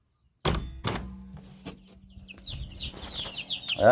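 Meat chickens in a warm brooder cluck and peep. A few loud thumps and clucks come near the start, followed by a continuous low chatter of birds up close, with no talk.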